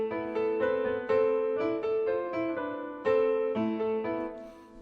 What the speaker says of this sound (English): So the piano sounds like this without the effects. And with the effects it sounds like this.